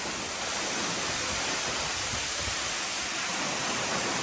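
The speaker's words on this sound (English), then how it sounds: "3 points of water overflow flowing from the Salmon River down into this pool" Salmon River overflow water pours down a rock ravine into a pool below the falls, a steady, dense roar of rushing water that stays loud and close throughout, with no voices.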